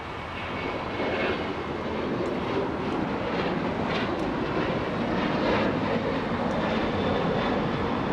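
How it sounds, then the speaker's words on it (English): A United Airlines Boeing 737 jet rumbles past at Los Angeles International Airport, a steady broadband engine roar with a faint hiss on top that holds evenly for several seconds at moderate distance. "now we have the 737 flying to Vegas"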